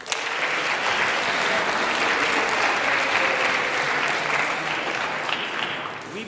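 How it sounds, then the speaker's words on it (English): A large audience at a school Shakespeare competition finals breaks into loud, sustained applause that holds steady throughout before easing slightly at the end. "give them thunderous applause."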